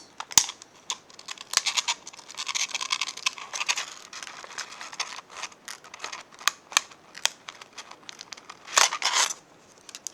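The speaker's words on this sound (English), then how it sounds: "I'm going to loosely cut out the shape with my tin snips" Tin snips cut through the thin metal of a tin can, a quiet, close series of irregular sharp snips and crisp metallic crinkles.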